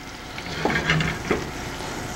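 Butter melting in a hot pan gives a steady soft sizzle with faint scraping and clinks of a utensil, close and continuous without any voices.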